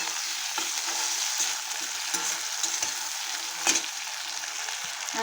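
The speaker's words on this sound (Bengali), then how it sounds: "পেঁয়াজ আর আলু ভেন্ডির জন্য একসঙ্গে ভেজে নেব।" Onions and potatoes fry together in a pan for an okra and prawn dish, giving a steady close sizzle with soft scraping stirs throughout and no talking.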